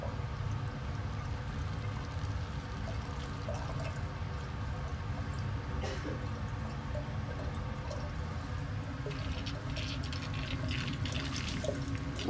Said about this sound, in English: we have a nice smooth flow of water